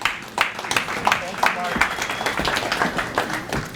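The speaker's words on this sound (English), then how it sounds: "I think we should all give Betsy, who gets very much a thankless job, a round of applause." An audience at a community awards ceremony applauds for Betsy Shane, a dense, even round of clapping from a roomful of people filling the whole stretch.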